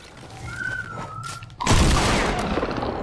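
Gunfire in the video game Fortnite: quiet tonal game sounds give way to a sudden loud burst of shots and dense noisy firing that continues to the end, with no talk.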